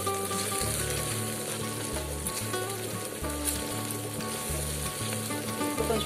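Chicken with tamarind leaves and spices sizzles steadily in a pan, a dense continuous frying hiss with low stirring scrapes and a repeating low hum underneath, close and fairly loud, no talking.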